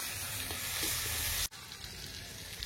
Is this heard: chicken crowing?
no